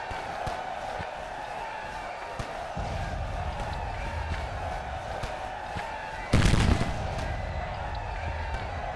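Gunfire in Grand Tactician: The Civil War rings out as a sudden loud volley near the end, over a steady bed of distant battlefield ambience and scattered faint pops.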